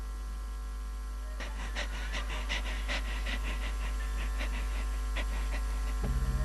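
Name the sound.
heavy panting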